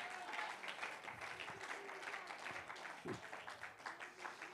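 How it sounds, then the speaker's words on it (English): Church congregation clapping hands together during a sermon, a faint, busy patter of many hands that runs steadily through the whole stretch with scattered voices mixed in. "Clap your hands to him."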